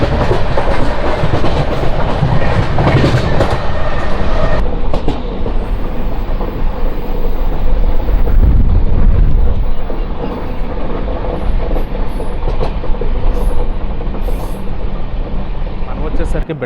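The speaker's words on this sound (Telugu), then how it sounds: "Vikrama Simhapur intercity express" The Simhapuri Express passenger train rolls along the rails with a loud, steady rumble and rhythmic clatter heard from inside the coach, a constant roar that eases slightly partway through.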